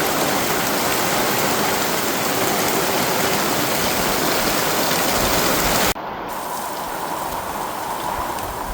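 Steady, dense rain pours down outdoors near a caravan park, a loud continuous hiss that drops abruptly to a softer, lighter patter partway through.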